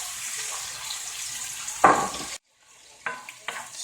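Shrimp sizzling in a pan as they are stirred, a close steady hiss with a clear scrape of the utensil, a sudden cutoff, then quieter sizzling with a few light clinks.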